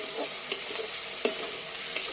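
Bitter gourd and potato fry in a pan with a steady hissing sizzle, while a utensil stirs and taps against the pan in a few distinct knocks, close and unaccompanied by speech.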